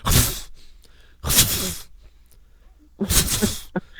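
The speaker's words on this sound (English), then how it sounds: "is that you sneezing" Sharp breathy sneezes, three bursts spaced a second or so apart, close to the mic, with faint background murmuring between them.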